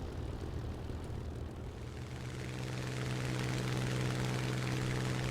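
A Sea Hurricane Mk.IC propeller fighter in War Thunder flies with a steady, droning engine roar that swells slightly and stays loud and continuous throughout.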